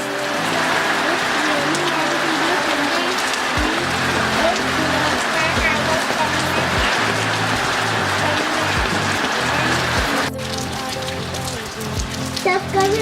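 Rain falling steadily as a dense hiss on surfaces outdoors during a spring weather change with hail, continuous and close, with a few low thuds underneath.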